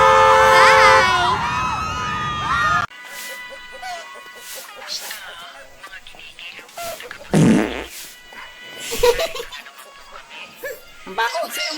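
A fart goes off amid a compilation scene of a household, with people chatting, snickering and laughing around it; the burst is brief and fairly loud among scattered voices.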